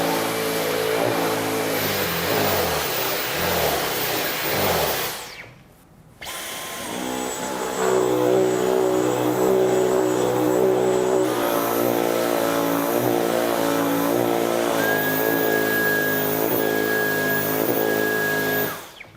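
Dyson V15 and Dyson Outsize cordless stick vacuums run one after the other, each a loud steady motor whine with a brief silent gap as the first stops and the second starts.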